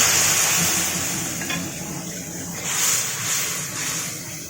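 A spice paste of chili, coriander and turmeric powders sizzles steadily in a pan as a little water is added, making a continuous loud hiss that swells and settles again.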